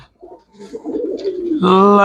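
Pigeons coo up close, starting with soft, broken murmurs and swelling into a loud, sustained throaty call toward the end.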